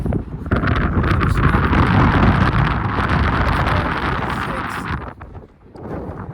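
Strong wind gusts batter the microphone on an outdoor running track, a loud, continuous roaring buffet that dips briefly near the end before rising again, with no voice heard.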